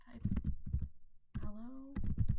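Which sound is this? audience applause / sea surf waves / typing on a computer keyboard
typing on a computer keyboard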